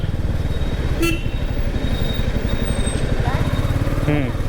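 A motorcycle rides along a road in India, its dense engine rumble steady throughout, with brief horn toots from passing traffic and faint talk over the noise.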